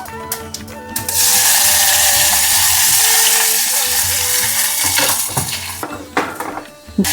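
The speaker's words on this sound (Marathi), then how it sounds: "आता राई थोडी तडकली आहे" Mustard seeds spluttering in hot oil, a loud, dense crackling sizzle that bursts in after a few metal clinks, holds steady and then thins out into stirring and pan clatter, close by.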